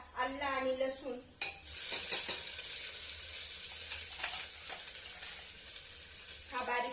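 Cashews and bay leaves fry in hot oil for dalia khichdi, a continuous close sizzle with occasional utensil clinks and brief stirring scrapes.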